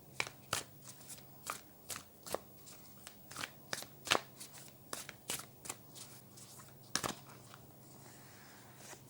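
Tarot cards are shuffled close by in a quiet room, with soft riffling flicks and crisp snaps arriving in irregular bursts over several seconds.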